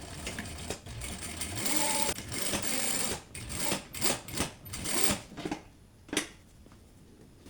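A sewing machine stitches patchwork fabric in loud, close bursts of rapid mechanical chatter, stopping and starting several times with short pauses and a final brief run.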